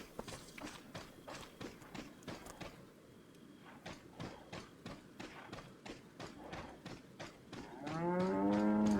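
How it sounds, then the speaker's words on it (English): A cow in Resident Evil 4 moos loudly and closely near the end, after a steady run of rhythmic footsteps or hoofbeats clattering through the first eight seconds of game audio. "I accidentally killed the cow."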